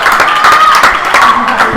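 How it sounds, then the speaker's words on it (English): Fans clap at a men's doubles racquetball world championship match, a short burst of crowd applause in an arena under a commentator's voice. "You can hear the clapping"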